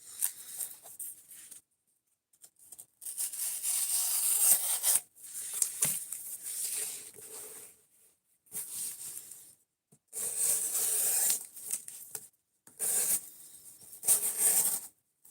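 A kitchen knife is worked over a sharpening stone, giving soft repeated scraping and rasping strokes in separate bursts, with short quiet pauses between them. The sound is moderately close and no one talks.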